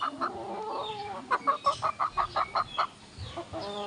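Three-month-old Sweater Pumpkin hatch gamefowl clucking close by, a quick run of sharp, evenly spaced clucks with softer chicken calls before and after, no voices.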